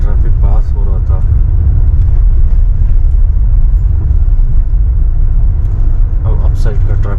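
Vehicles on a mountain road in Leh Ladakh, between Baralacha-la and Pang, rumble past loudly and continuously, a deep steady roar of engines and tyres as held traffic is let through, with a voice talking over it.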